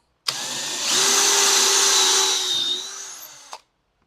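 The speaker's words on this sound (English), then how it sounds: "I can just take my drill and I can just bang out these pilot holes" A power drill drilling pilot holes whirs loudly and steadily for about three seconds, its motor pitch rising slightly as it bites in, then stops abruptly.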